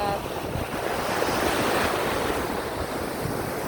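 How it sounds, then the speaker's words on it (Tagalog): Sea waves wash steadily onto the shore, a continuous rushing roar mixed with wind buffeting the microphone. "Balod sa dagat."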